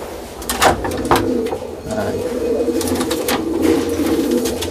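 A racing pigeon coos in low repeated calls, close and fairly loud, with a couple of sharp wing-flap bursts early on and a steady room hum beneath.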